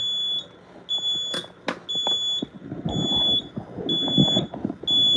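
Simplex 4005 fire alarm panel sounding a re-alarm: a loud, repeating high electronic beep in steady pulses, over a background of low clicks and rustling handling noise.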